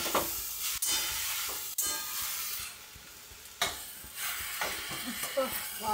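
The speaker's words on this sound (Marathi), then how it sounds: "पूर्ण मीठ आणि भाजी एकजीव असं छान असं परतून घेऊया" Vegetables for tandulka bhaji being stirred with salt in a hot pan, a steady close sizzle with scraping stir strokes and a few sharper clicks of the spoon against the pan.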